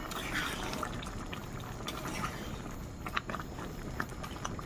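Vegetarian khichuri of rice and lentils simmering in a pot, a continuous wet bubbling and popping with scattered small plops and drips at a fairly even, moderate level.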